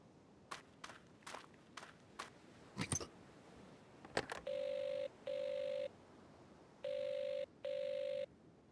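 Telephone dialing and ringing in the Agatha Christie's Evil Under the Sun video game: a series of sharp dial clicks and tones, then four steady, loud electronic ring bursts in two pairs, with no voices.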